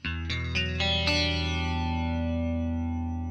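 Clean electric guitar tone through a slow, moderately deep chorus modulation in AmpliTube 5 CS: several notes strummed in quick succession build into a sustained, shimmering chord that rings out and slowly fades.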